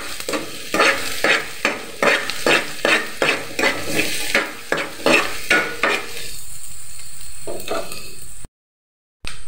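Onion and garlic fry in a pan for chicken adobo flakes, stirred with about a dozen quick, even scraping strokes over a steady sizzle. The stirring then stops, the sizzle carries on alone, and it ends abruptly.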